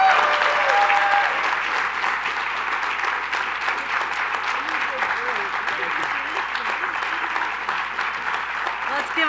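Audience in a steady, dense round of clapping welcoming Governor Kathy Hochul at a public event, loud and sustained through the whole stretch with no pauses.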